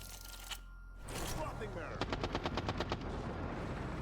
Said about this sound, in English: we're trying to shoot out a window